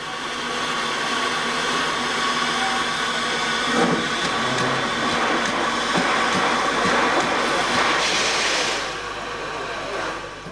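Steam locomotives 3830 and 3801 double-heading a train in Australia: a continuous loud hiss and rumble of steam and rolling stock, steady throughout with a few brief surges, easing slightly toward the end.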